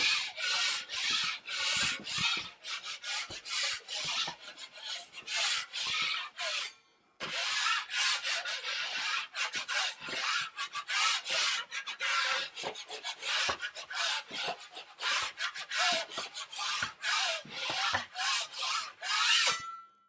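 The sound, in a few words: drywall knife spreading mud over drywall screws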